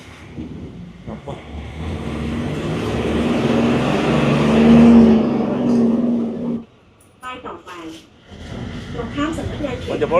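A bus pulls up on a road in Thailand, its engine rumbling louder and steady for several seconds before cutting off abruptly, followed by people talking nearby.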